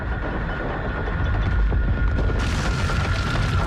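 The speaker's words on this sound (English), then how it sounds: "It's about to explode." A helicopter blowing up in a Stranger Things season 4 action scene, heard as a loud sustained boom and rumbling roar with deep low-end throbbing that carries on for several seconds, brightening with crackling debris partway through.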